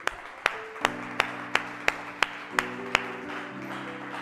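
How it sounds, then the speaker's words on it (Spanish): A church congregation clapping together in a steady, even rhythm, about two to three claps per second, with sustained musical tones running underneath. "Eso se merece un aplauso para Dios."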